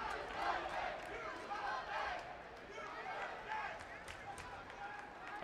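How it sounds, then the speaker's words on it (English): Hockey arena crowd at an Arizona vs Western Michigan game swelling into a steady roar of cheering and shouting, broad and continuous at moderate level throughout. "here comes the crowd"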